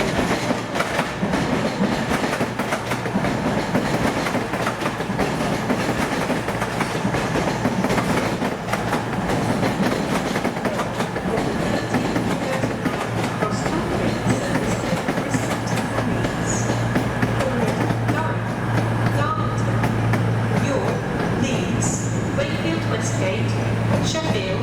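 Train at Newcastle Central Station, a service to Carlisle with eight coaches, rumbling steadily with wheel clatter throughout, with station noise and an announcement voice in the background.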